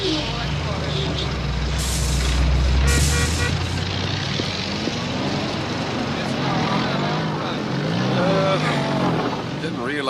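Steady roar of city traffic with engines rumbling and a loud hiss of air brakes, vehicles passing close by.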